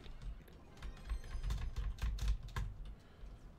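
Rapid, uneven keyboard mashing on a computer keyboard during a late-night game stream, a dense flurry of close, fairly quiet key clicks with no talking.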